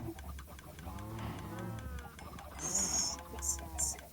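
Cows in the video game Minecraft moo in long, low, drawn-out calls over quiet game ambience, with a few bright chime-like effects near the end.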